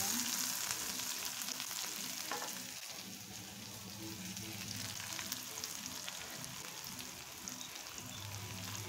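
Onion frying in a pan with cumin and garlic, a soft steady crackling sizzle like light rain, quiet and continuous without talk.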